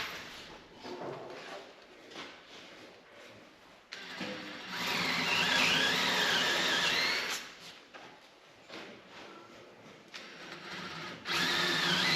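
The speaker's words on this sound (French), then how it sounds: "Je dois percer un petit peu à l'oblique pour éviter de tomber dans la rainure qui va recevoir le joint d'étanchéité." A power drill bores at an angle into a wooden window frame during hardware fitting, whining in several bursts of a few seconds each, with the longest and loudest run in the middle and quieter handling between.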